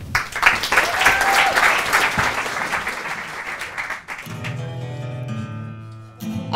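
Enthusiastic audience applause for a singer on a French television show, a dense wash of clapping that fades out after about four seconds as music begins underneath.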